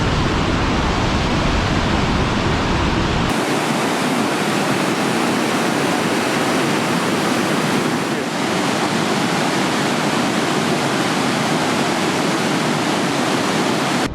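A waterfall roars steadily and loudly at a busy tourist spot in Québec, Canada, a dense, unbroken rush of falling water filling the whole clip.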